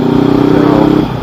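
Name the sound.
exhaust of a 2019 Honda CB500X motorcycle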